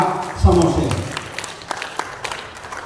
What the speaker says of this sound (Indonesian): Tepuk tangan dulu untuk pendeta Samosir